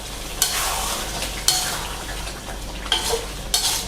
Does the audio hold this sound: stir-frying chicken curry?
yes